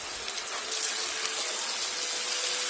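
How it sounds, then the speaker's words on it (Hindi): Two to three tablespoons of water poured into ladyfinger (bhindi) frying in a pan, giving a steady loud sizzling hiss that lasts throughout without a break. "अब हम इसमें पानी डालेंगे 2 से 3 टेबल स्पून"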